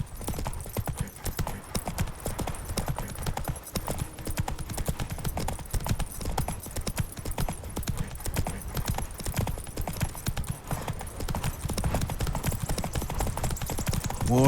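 Rapid, rhythmic hoofbeats of a horse galloping in The Witcher 3 pound steadily from start to end, close and fairly loud, with a faint whinny near the finish and no talking.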